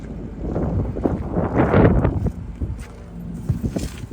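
Wind gusting around a car outdoors, a steady broadband rush with a few soft knocks, loud and close to the microphone throughout.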